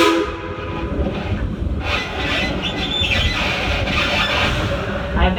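A train rumbles and clatters past nearby, a whistle or horn sounding over the steady rolling noise of the cars.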